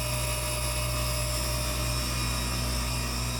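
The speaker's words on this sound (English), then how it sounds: "watching that endmill scrumptiously eat away on that metal" A CNC mill runs a 6mm endmill cutting a 1/4-inch keyway in metal, producing a steady, continuous high-pitched machining whine with constant tonal hum and no pauses.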